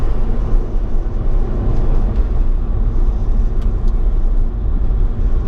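Car cruising at about 40 mph over the Black Mountain road, a loud, steady low engine and road rumble heard from inside the cabin with no talk.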